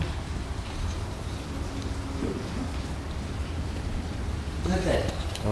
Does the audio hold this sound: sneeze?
no